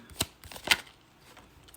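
Tarot cards being shuffled by hand in a quiet room, two crisp riffling bursts separated by near silence and a third just starting at the end, close and fairly soft.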